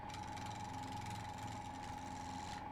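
An elm log spins on a wood lathe between centres with a step drive at 1400 RPM, a steady continuous motor whir with a faint tonal hum, unbroken and without speech.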